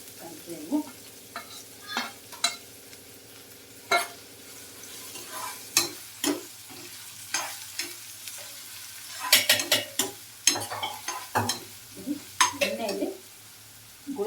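Chopped onions and curry leaves fry in a pan, a steady sizzle under repeated sharp scrapes and clinks of a spoon stirring against the metal, close and fairly loud throughout.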